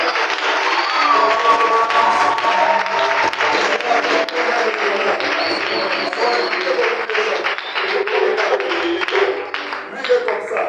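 A church congregation applauds and cheers at a French-language revival service, dense clapping and crowd noise holding steady and loud throughout with voices mixed in.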